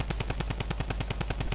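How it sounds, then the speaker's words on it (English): Rapid automatic gunfire in the Fortnite video game, aimed at shooting something down, fires a steady, evenly spaced burst of about fifteen close, loud shots with no talk. "I'll shoot it down."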